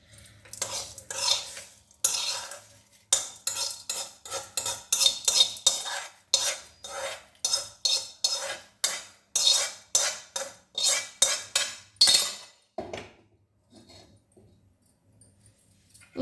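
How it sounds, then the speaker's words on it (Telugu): Spices tempered in oil are stirred into curd rice for a festival offering, giving repeated scraping and clinking strokes of a spoon against a vessel in a steady rhythm, close and clear, with no one talking. "ఇప్పుడు పోపు వేసుకుందాం."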